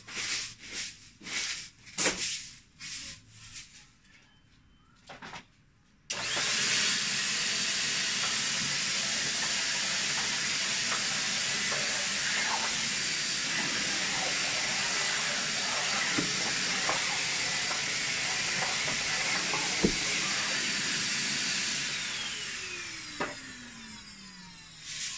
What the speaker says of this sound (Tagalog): Malaking bagay din talaga ang vacuum cleaner kasi nakukuha niya lahat.